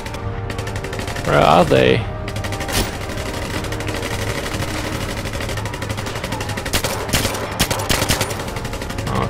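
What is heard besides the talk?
gunfire in the video game James Bond 007 Legends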